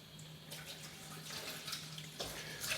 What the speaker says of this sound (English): now I'm going to fill this up with water